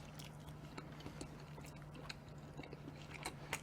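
Crunchy napa cabbage kimchi chewed up close during a home mukbang of cheese tonkatsu, giving soft, irregular crisp crunches and wet clicks. The sound is faint and heard with no talk.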